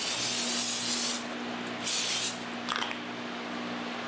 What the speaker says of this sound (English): So if you have a cooking spray,